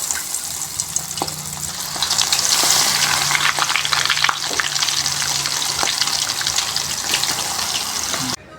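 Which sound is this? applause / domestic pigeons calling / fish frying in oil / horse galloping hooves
fish frying in oil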